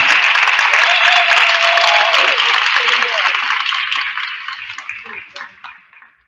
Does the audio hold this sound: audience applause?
yes